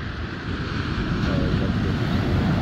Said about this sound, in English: waves coming off over there.